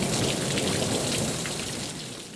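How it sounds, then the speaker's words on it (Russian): Heavy monsoon rain driven by wind pours down as a dense, continuous hiss, loud and close, easing slightly toward the end. "Пошел сильный дождь с ветром."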